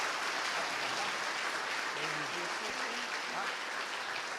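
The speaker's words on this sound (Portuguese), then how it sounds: "Vamos aplaudir o nosso Jesus bem forte?" Church congregation applauding strongly at a celebration service, a dense steady wash of clapping filling the room throughout, with faint voices and a few tonal sounds rising briefly beneath it midway.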